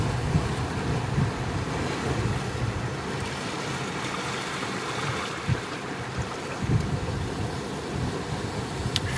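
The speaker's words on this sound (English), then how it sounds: "Allow your breath to synchronize with the sounds of the ocean" Ocean waves wash in a steady broadband roar with soft swells and a couple of brief louder surges, fairly continuous and unhurried, with no voices over it.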